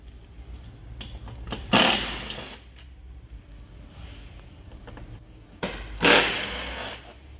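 A power tool undoes the T31 Torx bolts behind the grille on a VW Tiguan Mk2 front bumper, in two short, loud whirring bursts several seconds apart, with quieter handling noises between them.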